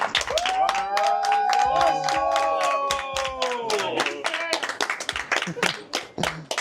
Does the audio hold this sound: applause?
yes